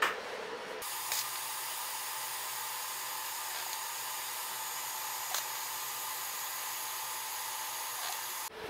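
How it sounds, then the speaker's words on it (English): Weld-through primer sprayed from an aerosol can onto a metal plate, a continuous close hiss that starts abruptly, holds steady for about eight seconds and then cuts off, with no talking. "I've just thrown some weld-through primer on the plate."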